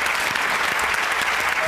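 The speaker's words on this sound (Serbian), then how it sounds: "Tu aplauzi za Ivu i Lenu." Studio audience of a TV talk show breaks into applause, a brief, steady burst of many hands clapping at close range with no talk over it.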